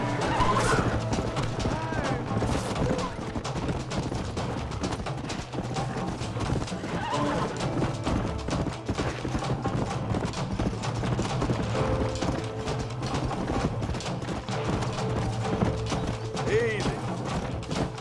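Horses in the video game Red Dead Redemption clop and trot continuously with occasional neighs, busy and close, mixed with thuds and voices speaking over them.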